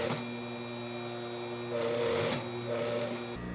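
A sewing machine stitches the shoulder seam of a basic bodice in a steady, continuous mechanical whir, close and clear. The motor rises briefly in speed partway through, and no one speaks.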